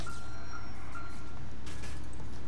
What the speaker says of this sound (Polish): O, jaki dziwny alarm był.